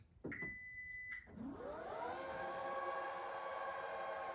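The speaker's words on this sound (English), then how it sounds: "confirm that it's making a proper beeping sound after replacement" A high electronic buzzer on a Toyota Sienna power back door beeps steadily for about a second, then a broadband whirring motor hum rises and continues steadily to the end.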